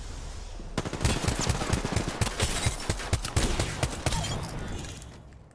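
An R-301 rifle fires in Apex Legends as a steady string of sharp, close shots, roughly twenty cracks in quick, evenly spaced succession. The shots tail off into a fading ambient rumble.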